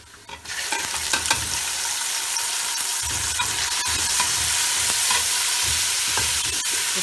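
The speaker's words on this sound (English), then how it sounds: "I'm going to add in my 3 chopped tomatoes" Three chopped tomatoes drop into browned onions in a hot pan, bursting into a loud, close sizzle that swells and keeps crackling steadily, broken by the scrape and knock of stirring.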